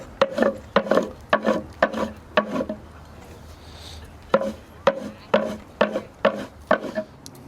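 Flax fibers scraped by hand with a tool to loosen and separate them, a close, rhythmic series of rasping strokes in two bursts with a short pause between, each stroke dry and scratchy, no talking.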